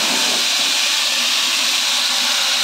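Marinated mutton tipped into hot oil in a pot for biryani, giving a loud, steady broadband sizzle and hiss that holds evenly throughout with no talking.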